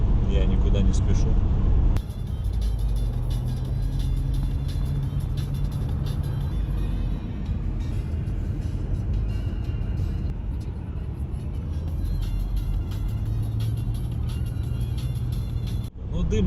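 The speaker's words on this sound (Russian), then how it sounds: "я еду сейчас 80 километров, еду не спеша, в принципе" A car cruises along a road at about 80 km/h, its cabin filled with a loud, steady drone of engine and tyre roar that holds evenly throughout.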